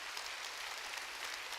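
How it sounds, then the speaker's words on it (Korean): Church congregation applauding during a Korean sermon, a dense, steady wash of clapping with no pauses, fairly loud and without voices over it. "세게 치라고 박수."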